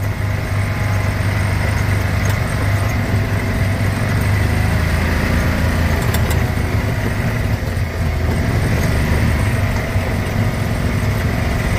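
Engine of a 1994 Club Car Carryall utility vehicle running steadily at low throttle, a constant close droning hum with no talk over it.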